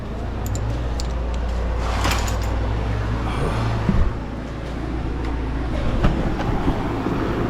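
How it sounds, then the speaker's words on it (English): A fan hums steadily in a garage, giving a constant low drone with faint clicks and rattles over it. No voices are heard. "pardon the fan noise right there"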